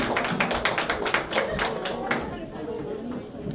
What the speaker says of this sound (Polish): Wielkie brawa na Kasi.